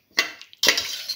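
Soaked rice mixture gets stirred in a pressure cooker pot, two brief scraping, gritty strokes of a spoon close by, with no voices.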